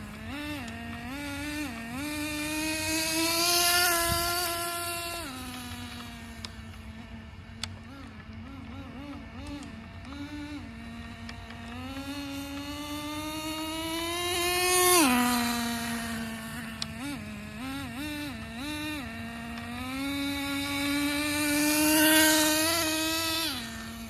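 Traxxas 4Tec RC car with a new transmission clutch, its small motor whining up and down in pitch as it accelerates and shifts, rising to several loud peaks with no talking over it.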